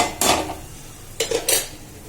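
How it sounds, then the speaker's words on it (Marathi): A few clanks and thuds as pieces of mutton drop into a pan of frying masala, with light sizzling between the bursts. "आता त्याच्यामध्ये मटण घालते मी."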